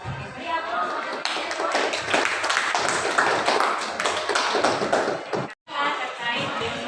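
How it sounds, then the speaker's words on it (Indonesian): Classroom applause from a group of students, a dense burst of clapping lasting several seconds, close and loud, with a brief pause near the end before clapping resumes, voices mixed in. "Oke, beri aplaus untuk"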